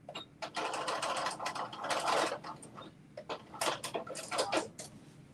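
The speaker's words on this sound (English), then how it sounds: "Now I'm going to do a little back stitch" A home sewing machine runs in short bursts while back stitching on a New Look 6667 garment, rapid mechanical needle chatter starting and stopping with brief pauses between runs, fairly close and moderately quiet.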